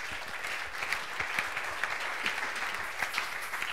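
A church congregation applauding the Lord during a French-English bilingual sermon, steady sustained clapping from many hands throughout, with no speech over it.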